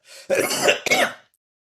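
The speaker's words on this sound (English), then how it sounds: "Two puffs, one cough." A single sharp cough bursts out after a couple of vape puffs, close and loud, split into two quick throaty barks with a brief breathy lead-in.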